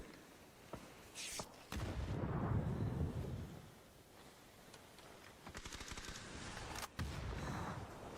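In a competitive video game match, a grenade blast rumbles loudly mid-clip, and sharp gunshots crack before and after it in quick bursts, with no voices over them.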